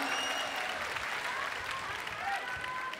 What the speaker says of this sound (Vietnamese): Sao quý vị không vỗ tay cho Ngọc chứ